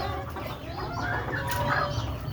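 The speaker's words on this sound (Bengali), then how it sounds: "এই যে দেখেন এখানে আমার দেশি মুরগি সব আপনারা" Several native (desi) chickens cluck and murmur continuously in a busy, steady chorus, with occasional louder calls rising above the flock.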